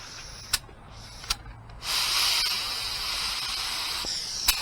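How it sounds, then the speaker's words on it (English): A spray gun fed by a small Harbor Freight air compressor painting a car bumper, a steady hiss of spray lasting a few seconds, with a few sharp clicks around it. "I'm using a small Harbor Freight compressor, so you don't need fancy stuff to get this done"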